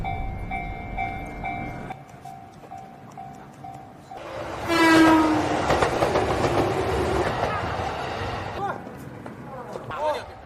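A train passes along a railway track: a steady rumbling roar builds, with a falling horn or whistle tone and rhythmic clatter from the wheels, heard loud and close.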